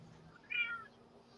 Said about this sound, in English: I've got a cat in the background that's wanting my attention